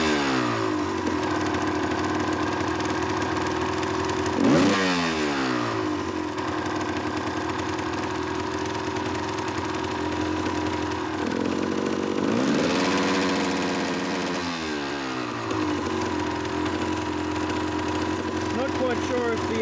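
A 1991 Suzuki TS200R two-stroke dirt bike engine runs steadily at a rough idle nearby, rising briefly in a couple of revs, a continuous buzzy drone throughout.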